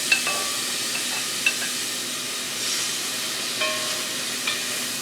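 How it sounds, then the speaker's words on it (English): Mushrooms sautéing in melted butter in a pan, a close steady sizzling hiss with a few light utensil taps and stirring clicks scattered through. "So in the pan I have some butter going. I'm going to add some mushrooms."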